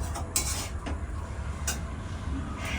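Plates handled while dinner is served: a few light clinks and knocks of dishware, quiet and sparse over faint room noise, with no talking.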